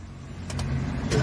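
A Suzuki Every minivan's engine is started, a low steady idle rumble rising slightly with a couple of brief higher bursts, close and fairly loud.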